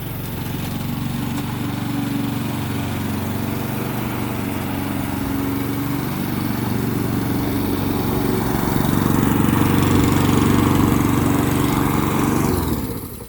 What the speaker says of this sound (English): Now that this mower has worked in a little bit, I think it's slowed down.